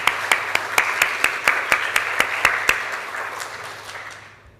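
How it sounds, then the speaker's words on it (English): A church congregation gives a round of applause at a Sunday service, a short burst of evenly spaced, fairly sparse clapping heard from within the room that thins out and fades away over a few seconds. "I'll offer a round of applause for those people"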